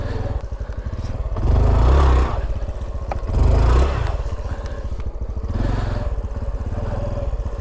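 A Honda Trail 125 Hunter Cub motorcycle idles and rumbles at close range during a slow, tight turnaround on a backroad trail, its engine swelling twice in brief revs before settling back to a steady putter.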